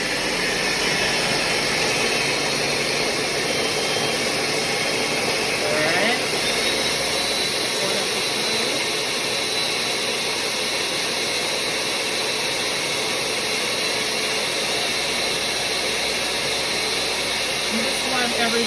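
A kitchen blender purees boiled vegetables, garlic and cilantro in a steady, loud, continuous whirring roar that holds throughout with only slight shifts.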